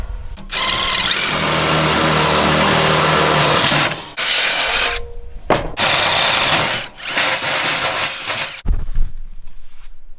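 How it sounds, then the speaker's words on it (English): A power drill with a 1/4 inch bit whines loudly and continuously in long bursts, drilling holes in metal for a drum smoker, stopping briefly between holes, with grinding and rattling as the bit bites in. "take our 1/4 inch drill bit."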